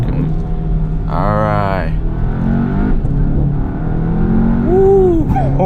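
Car with an Integrated Engineering Stage 1 tune pulling hard in second gear, the engine revving and rising in pitch from inside the cabin, with someone speaking briefly over the engine noise.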